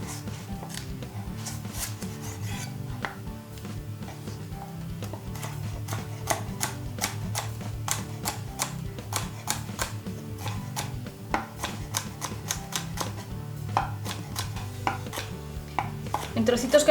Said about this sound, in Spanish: Cortamos media ramita de apio.